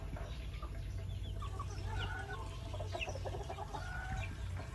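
A flock of White Kelso chickens and roosters cluck and call without pause, a dense, steady farmyard chorus close by with no talking.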